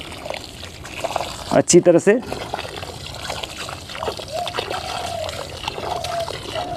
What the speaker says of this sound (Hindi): दोस्तों ये लगाने के बाद आपको इस पर पानी दे दीजिए